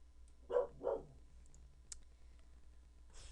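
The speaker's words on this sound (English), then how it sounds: "That was my dog." A dog barks twice in quick succession, somewhat muffled and off to the side. A sharp click follows, then a quiet room.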